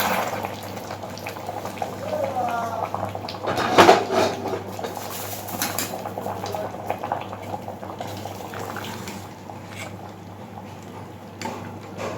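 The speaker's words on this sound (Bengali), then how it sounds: "খুব ভালোভাবে আরেকটু ফুটিয়ে নিতে হবে" Vegetarian bhog khichuri boiling in a pot on a gas stove, a steady soft bubbling and gurgling close by with a brief louder clatter near the middle, no talking.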